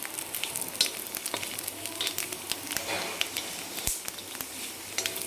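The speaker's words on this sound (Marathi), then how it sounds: "बघा तेल टाकल्याबरोबर लगेच खोबरं भाजायला चालू होतं" Grated coconut roasting in oil in a pan for a fresh masala, giving a steady close sizzle and crackle with light stirring scrapes throughout, no one talking.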